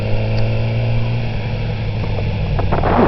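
A Triumph car passes close by on the road, its engine a steady loud drone with a brief rise in revs toward the end, heard from the saddle of a Yamaha R6 motorcycle.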